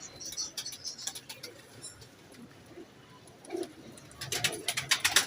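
Pigeons coo softly nearby in short repeated bursts, mixed with scattered wing flutters and light tapping sounds.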